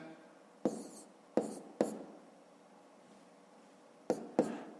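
Pen writing out a column multiplication of numbers on paper, quiet close scratching with a handful of sharp taps as digits are started, in a calm silent room.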